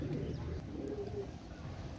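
A Pakistani pigeon gives a low, muffled coo over steady background noise, soft and fairly close.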